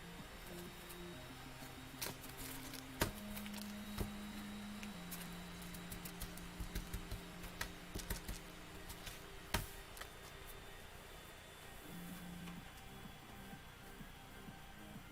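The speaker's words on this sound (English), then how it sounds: "What happened, printer?" Home printer running through a print job, with steady mechanical feed tones and motor whirs shifting pitch, interrupted by sharp clicks and ticks, continuous and close throughout without talk.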